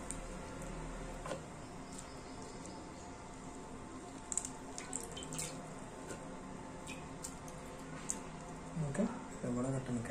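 Cabbage is rinsed under a running kitchen tap, making soft splashing and dripping with occasional clinks and a faint voice near the end.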